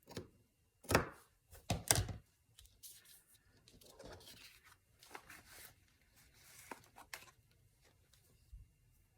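Scissors or a blade cut across the cover of a handmade journal in a few sharp snips and thunks, followed by quieter rustling and handling sounds up close.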